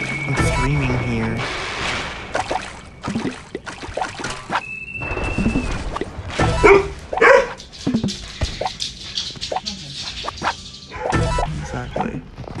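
A dog barks and yips in scattered bursts, some whimpering between, mixed in with people talking nearby.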